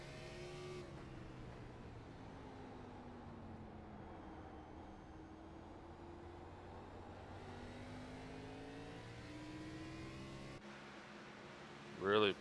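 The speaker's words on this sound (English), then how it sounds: "Listen to that throttle." Race car engine at Martinsville with the driver working the throttle, a steady loud drone whose pitch swoops up and down as it revs, running continuously with a brief louder burst near the end.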